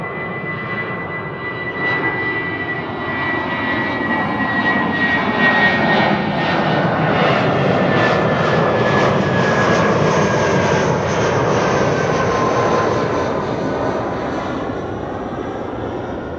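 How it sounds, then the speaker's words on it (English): A KLM Boeing 787-10 departing Amsterdam Schiphol Airport, bound for Mumbai, produces a loud, sustained jet engine roar that swells and holds as the airliner climbs away. "Next up will be the KLM 787-10 to"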